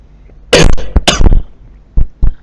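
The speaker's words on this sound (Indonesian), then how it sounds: "Mohon maaf ya, agak batuk." Someone coughs during a business information systems lecture: two loud, close bursts of harsh coughing in quick succession, then two shorter coughs after a pause.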